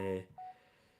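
An ordinary phone gives off a short, steady electronic tone at moderate level, heard alone after a brief burst of voice at the start.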